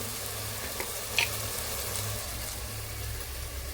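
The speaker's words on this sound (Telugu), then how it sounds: "ఇది కొంచెం బాగా మెత్తగా గుజ్జులాగా అయ్యేంత వరకు కూడా వేయించుకుందాం మనం ఇందులో అల్లం వెల్లుల్లి పేస్ట్ వేసాం" Ginger garlic paste frying in a pan gives a soft, steady sizzle throughout, with a faint low hum underneath and one small clink of a utensil.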